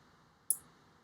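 An Arduino-controlled relay switching off gives a single sharp click, close and crisp, over a faint steady background hiss.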